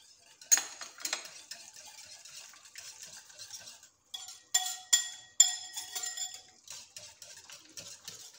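Ingredients for a tuna quiche are mixed in a bowl, a utensil clinking and scraping against the sides in bright, ringing taps that come in bursts between softer stirring, close and with no voices.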